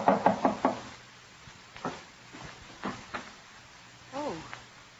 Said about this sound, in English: Elizabeth hears a knock at her door.